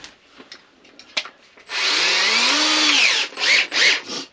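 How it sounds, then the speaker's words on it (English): A few faint taps and knocks, then a power drill whirs loudly for about two seconds drilling a pilot hole, followed by two shorter bursts as it bores in. "Drill a little pilot hole"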